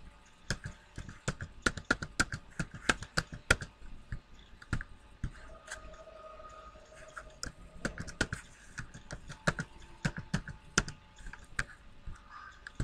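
Keys tapped on a computer keyboard while entering a user ID and password, a close, fairly quiet run of irregular clicks in quick bursts with short pauses between them.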